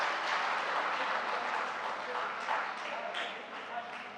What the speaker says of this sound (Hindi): आप लोग भी इनके लिए एक बार जोरदार ताली बजा करके स्वागत करें।